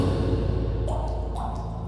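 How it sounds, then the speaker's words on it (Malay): A phone chimes twice with a short, bright notification tone for an incoming voice message, heard over a steady, loud low background rumble. "tiba-tiba telefon Haziq ni berbunyi, tanda mesej suara masuk"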